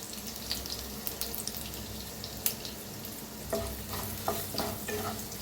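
Crushed garlic, curry leaves and turmeric sizzle in hot oil for a tempering, a steady crackling hiss with scattered pops and the occasional scrape of stirring.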